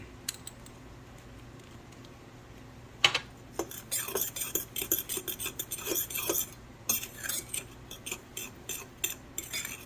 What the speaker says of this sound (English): I'm going to put a couple of these drops in here and stir it up